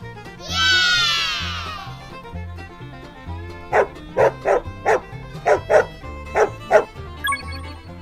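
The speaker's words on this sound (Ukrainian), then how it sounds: "Собака" A dog lets out a rising whine, then barks about ten times in quick, uneven bursts, fairly close, over a low background hum.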